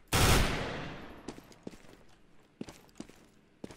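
Gunfire from a CS:GO gun set to burst mode: one loud blast that rings out and fades, followed by scattered light taps and footstep-like knocks.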